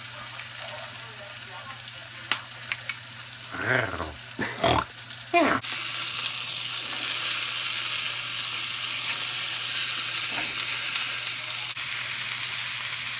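Moose meat searing on a grill pan, a steady broadband sizzle that swells after a few seconds and holds evenly, with someone talking and a few clattering knocks early on.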